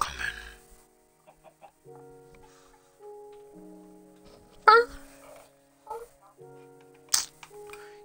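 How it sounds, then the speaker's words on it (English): Minecraft chicken clucking, a few short faint clucks scattered among quiet game tones and clicks, with one sharper louder burst midway and another near the end. "My chicken grew up!"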